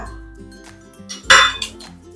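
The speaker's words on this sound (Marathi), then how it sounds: "मी यामध्ये ह्या शेंगा घालून घेते आणि सोबत कांदा" Drumstick pods and onion dropped into a metal cooking pot make a sharp clattering clink, followed by a few smaller knocks, close by and set against a faint tonal background.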